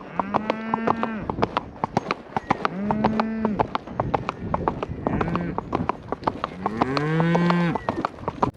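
Cattle mooing during a big cattle drive to the mountain, several long, drawn-out lows from a herd close by, mixed with hoof clatter and occasional voices.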